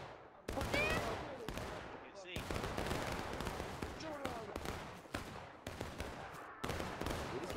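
Musket fire in a War of Rights battle, with sharp loud shots cracking one after another amid shouting voices and general battle din.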